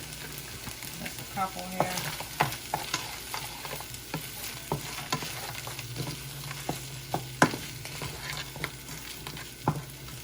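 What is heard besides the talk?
shrimp frying in a pan for fried rice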